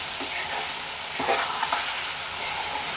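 Bottle gourd curry being stirred in a pan, giving a continuous sizzling fry with recurring soft scraping strokes of the spoon, close and fairly loud.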